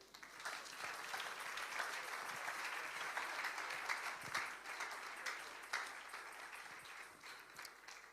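A church congregation at a French-language service applauds steadily, a dense, fairly distant wash of many hands clapping that holds for the whole stretch without pause.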